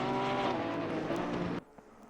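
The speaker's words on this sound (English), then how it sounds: "The Porsche comes around turn 16" A Porsche race car in a GT racing video game at the Kyalami Grand Prix circuit roars loudly with a dense, sustained engine note, then cuts off abruptly near the end, leaving faint low rumble.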